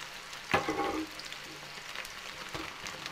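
Chopped onions dropped into hot oil with cumin in a pan give a sudden burst of sizzling that fades over about a second, followed by a quieter steady crackle.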